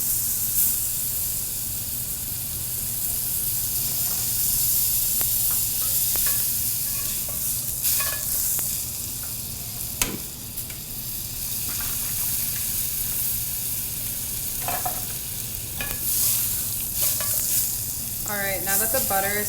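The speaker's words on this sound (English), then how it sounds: "you just add your butter and let it fully melt" Butter melting in a pan over low-medium heat before pan-searing steak gives a steady, soft sizzle and hiss, with a few brief clinks and stirring scrapes and a short flutter near the end. No one speaks.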